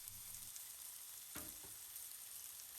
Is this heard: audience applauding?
no